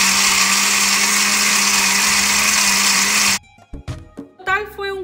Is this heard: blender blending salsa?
yes